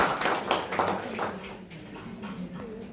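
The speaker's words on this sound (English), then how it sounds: "please let's clap for my guy." During a talk on social work ethics, an audience claps briefly for a man, a short scattered burst in the room that quickly dies away into quieter background.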